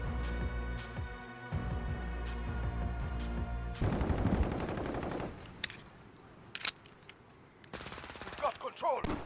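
Suppressed rifle fire in Call of Duty, a build fitted with a mono suppressor, lightweight trigger, 20-round magazines and VLK Spetsnaz grip; rapid automatic bursts crackle in close succession, with sharp single shots and game effects later.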